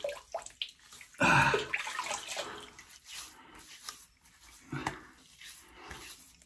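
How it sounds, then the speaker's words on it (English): Warm water splashing from a basin or tap as a face is wetted before a shave with a brass razor, with a loud burst of running water near the start, then softer drips and splashes. "we'll get that in some warm water"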